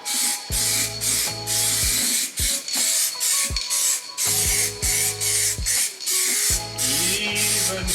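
Black spray paint hisses onto Subaru WRX STI car parts in repeated short bursts, each a sharp close hiss separated by brief pauses, with no talking.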